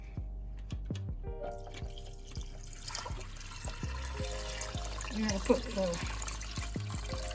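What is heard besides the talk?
water being poured into a pot of pinto beans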